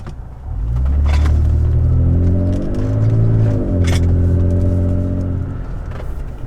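A deep, rumbling Toyota Tacoma pickup exhaust swells as the engine revs up, holds a throaty tone with a brief dip, then fades back down.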